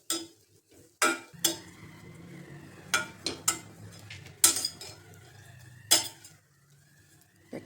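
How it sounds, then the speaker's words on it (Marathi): Grated dry coconut being dry-roasted in a pan over very low flame, with sharp metallic clinks and scrapes of a utensil against the pan at irregular intervals over a soft, steady background. "खोबऱ्याचा किस भाजायचा. हा एकदम लो फ्लेमवरती भाजून घ्यायचा."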